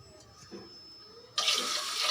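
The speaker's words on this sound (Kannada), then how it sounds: "ನಾನು 2 ಚಮಚ ನೀರು ಹಾಕ್ತಾಯಿದ್ದೀನಿ" Water is poured into a pressure cooker holding washed lentils for sambar, a sudden steady rushing splash that starts partway through after a quiet stretch and carries on loud and close.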